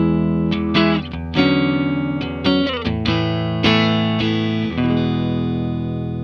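Clean electric guitar from a Fender Stratocaster run through a Boss GX-700 effects processor into a Vox AC30 amp, playing loud, ringing chords and single notes that sustain and decay, with no one talking.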